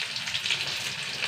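Dried red chillies and curry leaves sizzle in hot oil, a steady close crackling hiss that runs without a break through the short moment.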